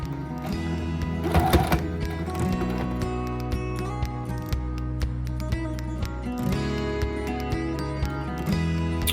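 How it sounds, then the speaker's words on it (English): A sewing machine stitches through waxed canvas for a saw pouch, running in quick mechanical bursts with short pauses and small clicks, close and fairly loud. "we're going to go ahead and sew 5 stitches down"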